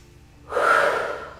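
A single strong breath out during a Pilates exercise, a sharp onset swelling into a long, close, breathy exhale that fades gradually, heard alone without talk.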